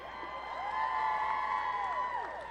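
Crowd at the 2017 OIA high school football championship game between Kahuku and Mililani, a steady sustained roar of cheering and whoops swelling slightly in the middle, heard from within the stands.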